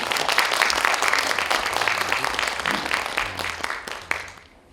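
Audience applause after a trio's music performance at a literary festival, a dense, even wash of clapping that carries on for several seconds and then gradually thins and fades toward the end.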